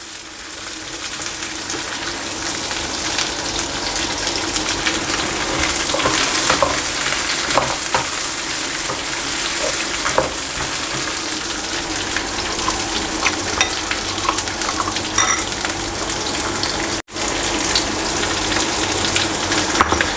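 Chicken stir-fried with ingredients for Thai cashew chicken sizzles steadily in a hot pan, with continuous loud frying crackle and occasional stirring scrapes throughout.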